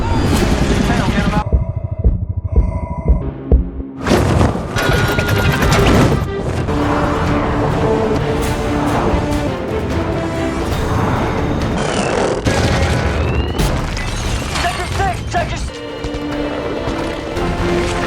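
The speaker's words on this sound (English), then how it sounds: "They're shooting at the building!" Gunfire and heavy explosions hit a building in a Transformers action scene, loud crashing blasts and rattling shots layered with a dense score and shouting voices throughout.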